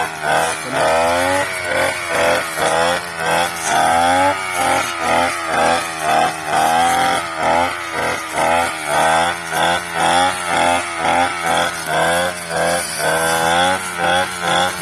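A small two-stroke T200 brush cutter engine fitted with a 5200 chainsaw carburetor revs steadily and loudly, rising and falling in quick pulses, with a raspy high-pitched whine throughout.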